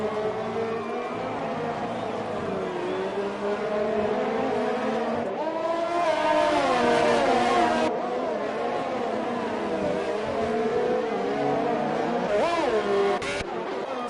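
Formula-style racing cars, including a Renault, roar down the straight at the Azerbaijan Grand Prix in a racing video game. Continuous high-pitched engine whine rises and falls as cars pass and overtake, with commentary running over it.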